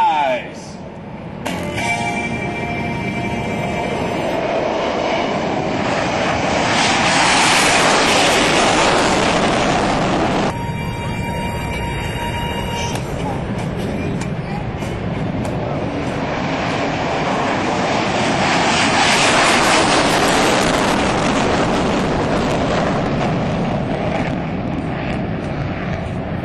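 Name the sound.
US Air Force fighter jets rolling onto runway and taking off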